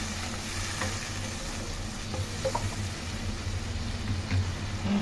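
Veg egg curry gravy with added water bubbles and simmers in a pan, a soft, continuous sizzling hiss that stays steady and fairly quiet throughout.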